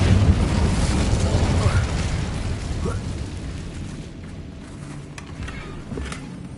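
An Incendio fire spell is cast in Hogwarts Legacy, a loud roaring whoosh of flame like an eruption that booms at the start and slowly dies down, with faint crackles near the end.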